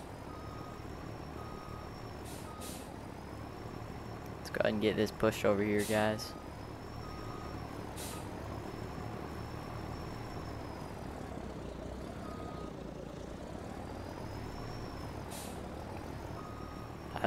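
A big highway truck in Farming Simulator 19, used for plowing snow off roads, gives a steady low engine drone throughout, with someone talking briefly over it.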